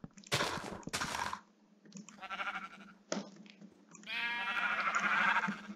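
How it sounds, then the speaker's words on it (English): Sheep in a pen in a video game, several bleats in a row, some short and some drawn out, fairly clear against a quiet background with a low steady hum. "sheep in this pen."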